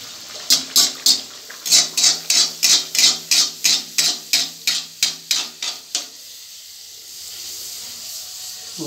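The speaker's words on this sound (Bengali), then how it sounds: "তেল আমাদের তেতে গেছে এবার আমরা লুচিটা ছেড়ে দেবো" Luchi bread drops into hot oil, giving a run of about a dozen loud, rhythmic swishing bursts over several seconds, then a quieter lingering sizzle.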